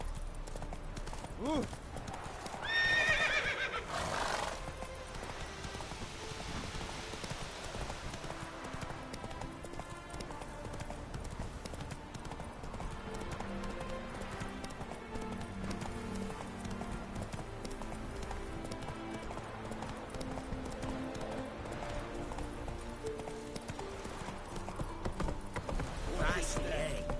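Horse hooves drum in a continuous galloping rhythm from The Witcher 3, steady and moderately loud throughout under music, with a short voiced exclamation near the start.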